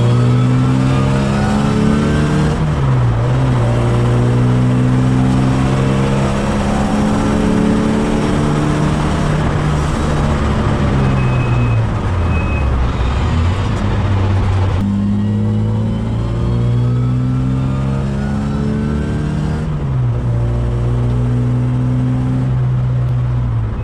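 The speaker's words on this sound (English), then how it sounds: "I'm going to drive it at high RPM range in my case, because that's where my power is." A car fitted with Weber DCOE carburetors revs hard at high RPM on a track. The engine is loud and close, climbing through repeated pulls with brief drops between gear changes, and no one speaks.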